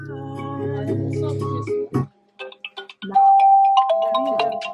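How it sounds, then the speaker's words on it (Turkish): A phone ringtone plays through a car's Bluetooth radio transmitter, a loud repeating electronic melody over quieter music, then brief clicks and a clear chiming tone pattern. "Telefon geldi."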